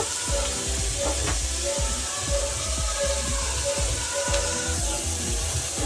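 Ingredients for fried rice sizzle in a pan seasoned with salt, a steady frying hiss under repeated low rhythmic knocks, close and continuous without speech.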